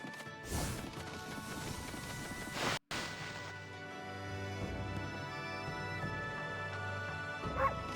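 Wolf barking in Okami HD: a few sharp barks and a crash early, then a sustained musical game soundtrack with a brief cutoff midway, no speech.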